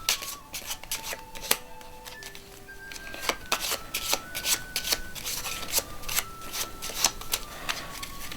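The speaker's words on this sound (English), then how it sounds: "we'll give this packet a shuffle" Playing cards are shuffled repeatedly, a rapid papery riffling and flicking close by, with no talking.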